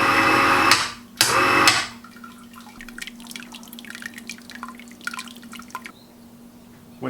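Wort drips and trickles from a lifted malt pipe into a 20L Speidel Braumeister during sparging, with a few louder pours early on followed by scattered, irregular close drips over a steady low hum.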